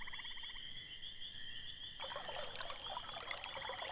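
Hippocrene water poured in the video game Quest for Glory V: Dragon Fire, a soft trickling pour entering halfway over a sustained high chiming tone, with a short burst of repeated blips at the start.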